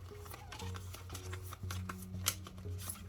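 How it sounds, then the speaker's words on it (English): Soft, quiet shuffling of tarot cards from The Wild Unknown Animal Spirit deck, with light papery slides and taps repeating at an uneven rhythm. "now kind of shuffling these around"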